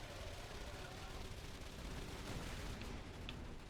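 Automated turrets in Borderlands 2 firing nonstop, a dense, steady roar of rapid shots that stays at one level throughout with no pauses.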